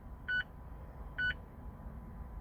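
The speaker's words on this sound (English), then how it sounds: "Continue holding it until you hear 1 or 2 beeps." Two short electronic beeps from a SmartTop convertible top module on a Mazda MX-5 ND, evenly spaced about a second apart, clear over a quiet hum.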